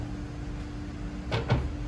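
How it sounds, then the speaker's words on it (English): Two quick scraping slides, close together, as a drawer box rides onto its guides over a low steady hum. "get the drawer box in, set off one side, then align the other side."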